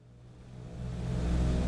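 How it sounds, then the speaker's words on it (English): Airliner jet engines spool up in Microsoft Flight Simulator, a low steady rumble rising gradually in loudness and pitch over a couple of seconds, heard alone with the engines running at slightly different speeds. "The fact that the different engines are running at different speeds with each other."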